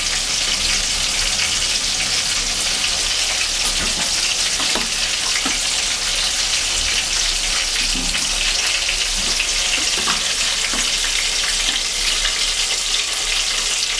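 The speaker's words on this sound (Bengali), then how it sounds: "এদিকে মাছটা আমার ভাজা হয়ে যাচ্ছে" Katla fish frying in oil in a pan, a loud, continuous crackling sizzle with scattered pops, steady from start to finish.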